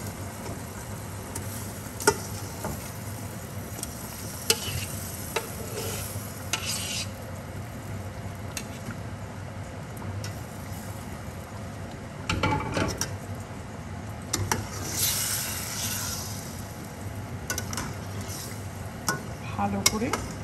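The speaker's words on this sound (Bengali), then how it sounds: "এখন কষিয়ে কষিয়ে চিকেনটাকে রেডি করব" Marinated chicken is stirred and sautéed in a pot over lowered heat for Persian-style yakhni pulao, giving a steady low sizzle with scraping spoon strokes and occasional clinks of the pot.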